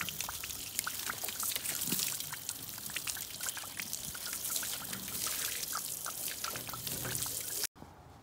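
Water rinses off the side of an RV after a hard-water wash, with steady pouring and trickling and scattered drips, cut short by a brief drop at the end.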